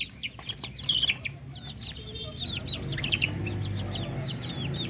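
Darag native chickens in a breeder flock, several birds clucking and chirping close by in repeated short calls over a low farmyard rumble.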